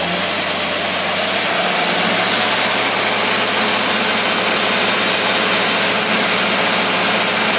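A petrol engine fitted with a Rochester two-barrel carburetor runs steadily on a dyno, a loud, continuous idle-like drone with a deep rumble that holds even throughout, with no talking.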